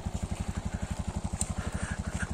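A motorcycle engine runs close by at a steady low speed, its regular rapid thumping pulses even and continuous throughout.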